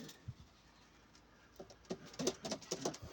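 Domestic pet pigeons, including grey and smoky-grey crested birds from the same nest, coo softly at close range. Their coos come in several repeated bursts that grow louder and more frequent in the second half.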